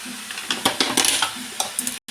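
A utensil scrapes and clatters in a pan as spice powders are stirred into mushroom curry, with quick irregular strokes and a soft sizzle underneath, close and fairly loud.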